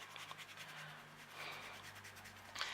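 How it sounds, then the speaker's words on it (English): A pencil eraser rubs out lines on a small artist trading card, a soft, close, continuous scrubbing with quick back-and-forth strokes and a faint low hum underneath, with no talk. "You can just rub out your lines."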